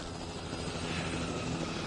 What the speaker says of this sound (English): You can see the helicopters flying.